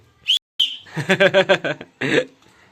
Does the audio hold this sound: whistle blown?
yes